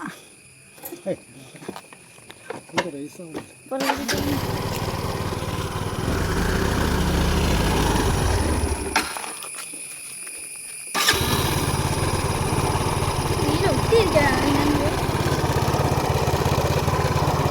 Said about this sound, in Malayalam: ഇവന്റെ പമ്പ സ്കൂട്ടർ അടിക്കണതാ